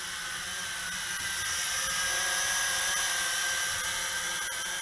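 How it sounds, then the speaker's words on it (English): Motors of a large foldable CF-920 RC quadcopter whir steadily in flight, a continuous high-pitched buzzing drone with a slight uneven vibration, close and fairly loud throughout, with no voices. "slightly kind of a vibratory noise, not a solid, steady sound, but maybe it is just breaking in the motors"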